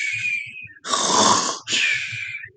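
Loud snoring imitated by a voice, three drawn-out rasping snores in a steady rhythm, close and alone with no talk.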